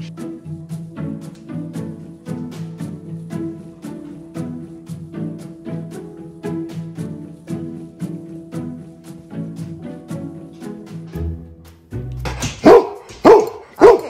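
An 11-year-old English Cream Golden Retriever barks repeatedly in a quick, steady series of sharp barks close by, then gives a few louder yips at the end.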